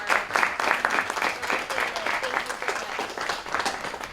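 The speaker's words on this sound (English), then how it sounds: "a quick round of applause" Symposium audience gives a quick round of applause at a journalism event, a steady dense wash of clapping hands that holds evenly for about four seconds with no talk over it.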